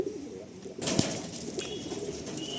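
Loft pigeons kept in the hens' section coo quietly nearby, with a short burst of wing flapping partway through.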